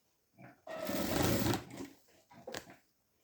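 A sewing machine stitches blouse fabric in one steady, loud whirring run of about a second, with shorter softer bursts of stitching before and after it.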